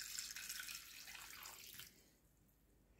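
Water pours steadily from a tap into a container for cooking pumpkin porridge, a close, continuous splashing rush that tapers off and stops near the end, with no talking.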